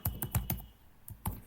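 Fingers tap on a computer keyboard while Python code is entered, four quick clicks in a row, a short pause, then two more distinct keystrokes, close and fairly quiet.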